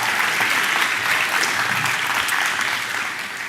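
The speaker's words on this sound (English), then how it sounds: "can we give all of those nominees another round of applause?" An audience at the 2024 Games for Change Awards applauds the award nominees with sustained, dense clapping throughout, easing slightly toward the end.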